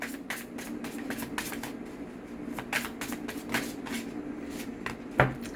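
Tarot cards being drawn and shuffled from a deck, with a steady run of soft papery riffles and slides, a few sharper card snaps, and one louder tap near the end, close up and with no voice.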